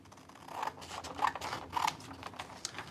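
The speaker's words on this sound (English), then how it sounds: "I'm going to take my scissors and cut out number J" Scissors snip through paper while a quilt pattern piece is cut out, producing a quick run of close, crisp cutting sounds with light scratchy rustling and no voices.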